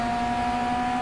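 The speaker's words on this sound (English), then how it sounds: "There's a car next to me, I can hear it." A rival car's engine holds a steady, droning tone close alongside an Alfa Romeo GTA in the GT Legends racing game, a continuous hum with no voices over it.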